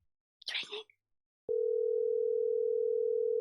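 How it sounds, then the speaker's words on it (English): A telephone tone on an outgoing call: a brief burst of speech, then a steady, unbroken tone that starts abruptly and holds at even loudness to the end. "It's still ringing."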